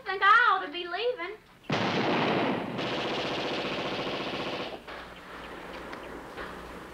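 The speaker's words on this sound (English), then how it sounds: "U.S. Army Browning automatic rifle, huh?" A U.S. Army Browning automatic rifle fires a loud, sustained burst lasting about three seconds that tapers into a rougher tail. A brief voice is heard just before the shots.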